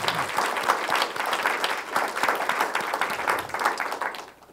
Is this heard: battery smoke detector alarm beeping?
no